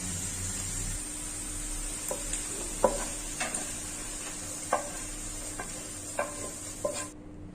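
Sautéed onions sizzle softly in a pan for moong dal curry, with scattered sharp spoon scrapes and taps against the metal at an irregular rhythm, close and fairly quiet, with no talking.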